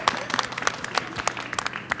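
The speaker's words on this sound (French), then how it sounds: "on vous applaudit très fort" A French television game-show studio audience applauds with quick, scattered claps that ring out crisply and keep going steadily from start to finish.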